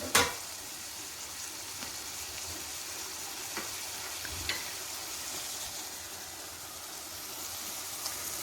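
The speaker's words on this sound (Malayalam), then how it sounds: "ഇഞ്ചിയും വെളുത്തുള്ളിയും കൂടെ ഇതിലിട്ട് അതിൻ്റെ പച്ചമണം മാറുന്നത് വരെ ഒന്ന് വഴറ്റി കൊടുക്കണം" Ginger-garlic paste and onions for crab thoran sauté in a pan with a steady, soft, hissing sizzle, broken by a few faint clicks of a utensil, after a brief knock at the start.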